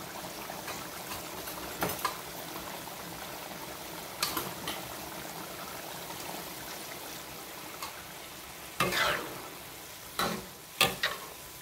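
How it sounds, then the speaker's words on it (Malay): Tamarind water simmers and sizzles in a cooking pan, a steady bubbling hiss broken by a few sharp clinks and stirring knocks, with no talking. "Kemudian tu barulah kita masuk air asam ya."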